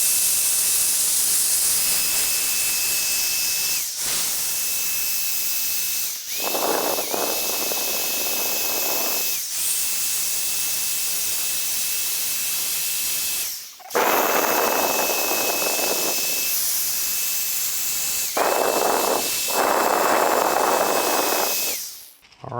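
Drill-driven sanding of a Range Rover headlight with 800 grit paper: a loud, steady high whine and hiss that stops and restarts several times in separate passes, with no talk.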